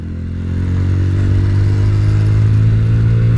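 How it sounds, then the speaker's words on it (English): A budget bobber motorcycle with a modified carb slide runs at raised revs in a steady, loud, continuous engine drone as it pulls away. "just got to put a little bit extra throttle on, lift the revs a little bit higher than you would be used to"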